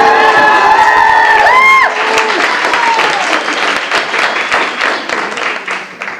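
Loud whoops and cheers open the moment before giving way to dense, crackling applause from a crowd at the investiture of a Circuit Court Judge in Florida's 11th Judicial Circuit, close and sustained for several seconds.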